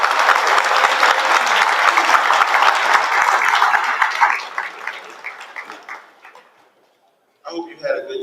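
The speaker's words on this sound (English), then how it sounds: "Let's clap it up for Stan one time." Audience applause at a social event fills the first half with dense, lively clapping and some crowd noise, then thins into scattered claps and dies away, followed by a brief burst of speech.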